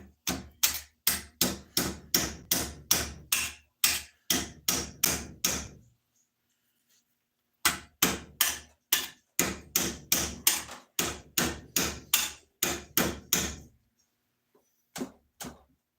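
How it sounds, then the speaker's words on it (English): A metal hammer drives a card scraper into an axe. It strikes in fast, sharp, evenly spaced blows, close and loud, with two long runs split by a pause and a few last taps at the end. "I'll hammer it in there."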